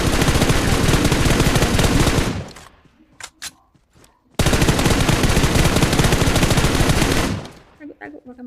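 Gunfire in a PUBG Mobile match, heard as two long, loud, rapid bursts separated by a short lull with a few scattered sharp cracks.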